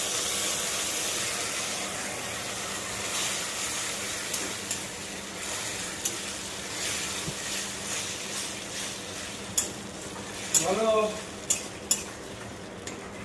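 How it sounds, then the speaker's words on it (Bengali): Chicken stirred into a mixed sauce in a pan gives a steady, close sizzle with soft scraping strokes, then a few sharp utensil clinks and knocks near the end; no one speaks. "চিকেনটা দিয়ে দিয়েছি, দিয়ে নাড়িয়ে এটা ফুটতে দিয়েছি"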